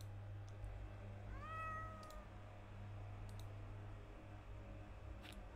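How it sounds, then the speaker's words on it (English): A cat in the adventure game The Excavation of Hob's Barrow gives a single clear, rising meow over a quiet, steady hum, with a few faint clicks. "What on earth are you doing down here, you silly cat?"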